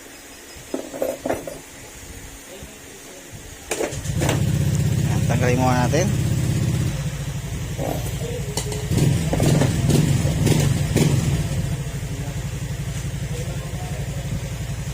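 A Honda Click 150 scooter engine starts up and idles with a steady low drone, then revs in a few short bursts, heard close by with people talking over parts of it.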